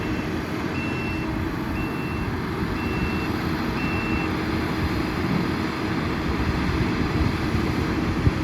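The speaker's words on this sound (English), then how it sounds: "that Kubota's doing the job" Kubota 95 machine at work moving rock for a cattle drinking pond, with steady backup alarm beeps repeating about once a second over a constant engine rumble, close and fairly loud, no talking.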